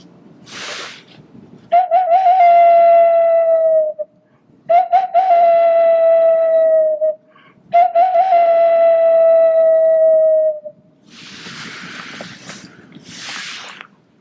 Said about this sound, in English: blow the spirit whistle to acknowledge those relatives that are still out there